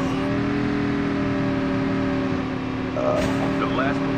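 In a battle royale video game, a car engine drones steadily and then briefly revs, heard faintly under other game sounds and players' chatter.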